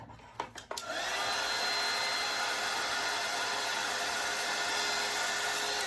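Hair dryer blowing over chalk paint on tile, a few clicks and brief bursts before it settles into a steady, loud whooshing roar that continues without a break.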